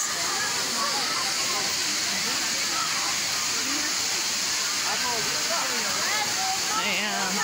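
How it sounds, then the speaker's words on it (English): A river in Turkey rushes in a continuous, loud broadband roar that fills the scene, with a person talking faintly underneath at times. "It's the river, guys."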